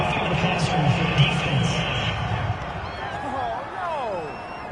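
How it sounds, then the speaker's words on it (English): A stadium crowd in a football video game reacts to a penalty call, a broad, steady roar of many voices that swells briefly, then gives way to scattered whistles and jeers, with commentary-like talk running underneath. "this crowd does not like that call"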